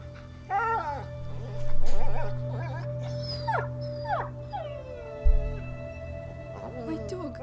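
Dog howling and whimpering in the video game A Plague Tale: Innocence: a series of rising whines and yelps, with a longer mournful howl, heard close over a low hum and some speech.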